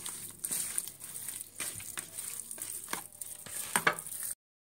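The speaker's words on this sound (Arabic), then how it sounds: "هبتدي اقلبها كلها كده، واغلف الفراخ كلها بالخلطه بتاعتنا ديت" Chicken strips are tossed and turned in a KFC-style breading mix, giving close, soft crinkling and gritty rustling scrapes in irregular bursts, alone before a sudden cut to silence.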